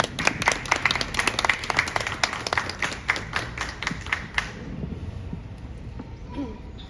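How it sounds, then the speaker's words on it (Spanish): An audience claps and applauds, a dense burst of many hands that fades out after a few seconds, leaving quieter room noise. "Un aplauso para Ethel, por favor."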